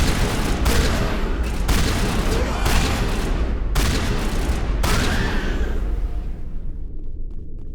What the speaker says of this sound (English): Might need my shotgun for this